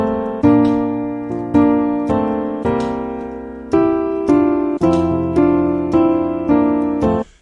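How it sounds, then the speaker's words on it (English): A two-note solo for the song El Shaddai plays as a steady sequence of struck harmonic chords, each attack decaying before the next, melodic and close with no voices. "just 2-note solo for El Shaddai, it's gonna sound like this"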